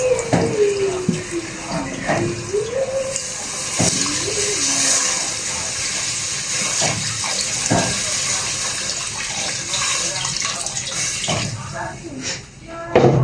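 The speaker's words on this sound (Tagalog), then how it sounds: "Ibuhos natin yung tubig." Water pouring into a cooking pot for chicken tinola with lemongrass, a continuous splashing fill that runs for several seconds while someone talks over it, ending with a few clinks.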